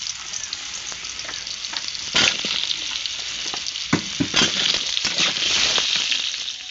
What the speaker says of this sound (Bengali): সেই কড়ার মধ্যে আলুগুলো একটু ভেজে নেব।